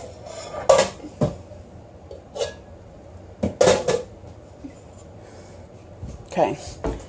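A small pan is pulled from a cupboard under a kitchen counter, with several sharp metallic clanks and rattles of pots and utensils spread over a few seconds.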